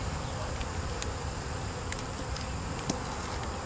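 Honey bees buzz steadily around an open hive from a split colony, a dense, close, continuous hum with occasional sharper passes of individual bees.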